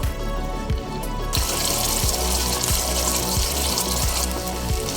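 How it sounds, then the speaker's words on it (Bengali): Water pouring from a tap into a yogurt bowl to rinse it in a kitchen while cooking doi pabda fish curry, a steady, close rushing stream that shifts in pitch as the bowl fills. "দইয়ের বাটি ধুয়ে অল্প একটু জল দিয়ে দেব"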